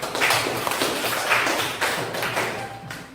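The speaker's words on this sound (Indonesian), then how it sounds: "Berikan aplaus untuk" Applause from a class audience, a dense wash of many hands clapping steadily throughout, moderately loud and fairly close with no speech over it.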